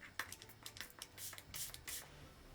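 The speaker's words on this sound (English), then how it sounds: "let's do a practice spray" A series of short, soft spritzes from a cosmetic spray bottle, several quick hissing puffs in irregular rhythm, faint and close.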